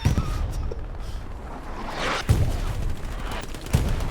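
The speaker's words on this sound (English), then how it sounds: "3 MGs firing on the spawn as well as artillery, as well as infantry." Distant machine guns and artillery keep up a constant rumble of battle in Hell Let Loose, with scattered bursts and a few sharper nearby shots cracking over the background fire.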